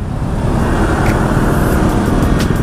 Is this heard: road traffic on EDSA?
yes